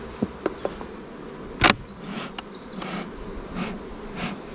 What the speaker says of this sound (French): Là on enfume et là le bruit dans la ruche il change.